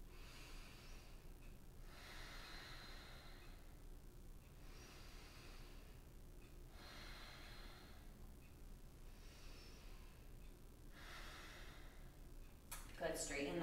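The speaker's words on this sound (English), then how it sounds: "Let's take 3 breaths here." Slow, deep breaths during a yoga Warrior 2 pose, several soft rhythmic inhales and exhales close to the mic, faint and airy with a brief rustle at the end.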